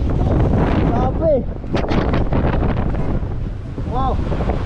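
Strong, loud wind buffets the microphone continuously outdoors near a motorbike on open flat land, a dense rumbling roar with voices shouting briefly over it.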